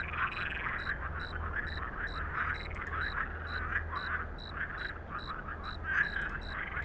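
A chorus of frogs croaks continuously by a forest lake in The Cursed Forest horror game, rhythmic rattling calls layered over a low droning background, with no talking.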